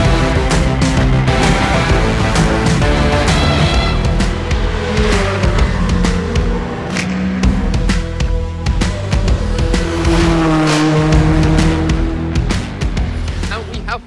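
Race cars howl past the famous spectator corner of the Nürburgring, a loud continuous roar of engines with rising and falling passes and gear changes, heavy and near throughout.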